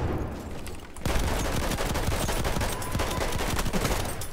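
Rapid automatic fire from a gun in the video game Battlefield 1, a loud close stream of shots rattling steadily for several seconds after a brief lull at the start.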